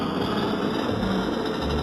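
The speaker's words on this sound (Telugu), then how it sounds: "ఆటో సౌండ్ చూడండి గైస్, భలే ఉన్నది క్రేజీగా" Auto rickshaw engine in the Indian Bike Driving 3D video game, a steady buzzing drone that holds loud and continuous with no talk over it.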